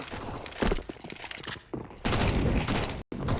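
Loud burst of game combat noise from a Counter-Strike match, a sudden broadband blast with sharp impacts and continuing rumble, no talk over it, consistent with a grenade going off nearby.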